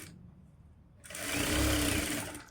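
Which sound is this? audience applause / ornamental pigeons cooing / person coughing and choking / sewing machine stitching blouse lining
sewing machine stitching blouse lining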